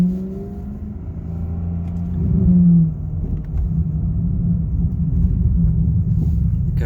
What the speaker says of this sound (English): Taking the Maserati for a test drive.